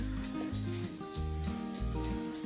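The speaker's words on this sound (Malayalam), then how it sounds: "സൈഡിൽ കൂടെ ചെറുതായിട്ട് ഒന്ന് എണ്ണ ഒഴിച്ച് കൊടുക്കുന്നുണ്ട് കേട്ടോ." Chicken pola frying in a little oil around the edges of a pan, a continuous close sizzle with soft shifting scrapes, steady and moderately loud with no talking.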